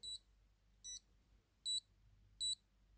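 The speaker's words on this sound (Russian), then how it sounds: "О, это еще и будильник. Слышим такой громкий и противный сигнал." Fake Casio G-Shock watch sounding its alarm: four short, shrill, identical beeps evenly spaced, close and clear over faint background hum.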